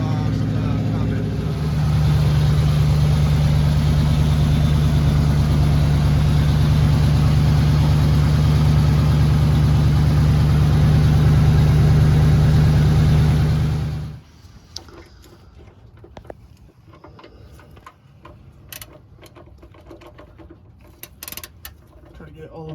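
A 1985 square body truck with its mufflers cut off idles with a loud, steady, deep exhaust rumble for about fourteen seconds, then shuts off abruptly, leaving faint clicks and shuffling.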